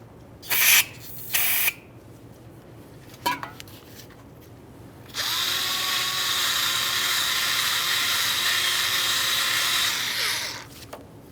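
Parts cleaner aerosol is sprayed into a brake caliper slider port on a 1994-2001 Dodge Ram 1500 front brake, close up: two short sharp bursts and a brief rattle, then a long steady hiss lasting about five seconds before fading.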